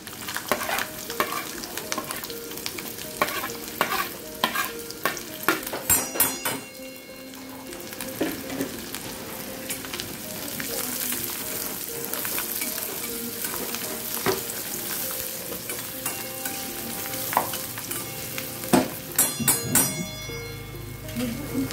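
Onions fry in a pan for chicken curry, a long, steady sizzle with repeated spatula scrapes and clatter as they are stirred, loud and close, with a few brief knocks toward the end.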